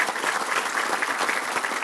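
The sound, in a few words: audience applause at chamber meeting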